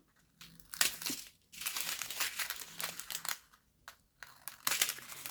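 Plastic diamond painting bead packets being cut open, heard as close, crisp bursts of crinkling and crackling with short quiet gaps between them and no talking.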